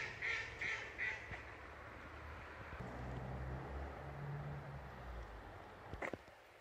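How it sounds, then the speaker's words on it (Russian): Ducks quack in a short burst of about three calls early on, somewhere out on open water by old pilings near a small house, followed by a steady background of water and a faint thump near the end. "уточки плавают вон там вдалеке"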